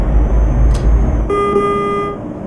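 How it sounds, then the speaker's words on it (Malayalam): A KSRTC bus horn in the Euro Truck Simulator 2 driving game gives one loud, steady multi-tone blast lasting under a second, sounding over a constant engine and road rumble and fading slightly at the end. "നല്ല ഹോണ്."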